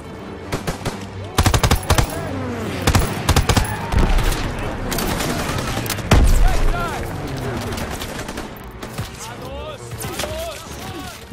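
Bursts of rapid gunfire and heavy shots ring out in the Call of Duty WW2 campaign mission Stronghold, loud and near, with players' voices calling out over the battle.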